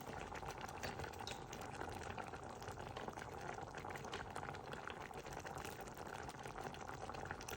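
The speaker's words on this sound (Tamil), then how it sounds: "இனி ஒரு கொதி விட்டு" A Batticaloa-style tamarind fish curry simmers in a pot, giving a steady, dense bubbling and gurgling boil that holds an even level throughout, close by with no talking.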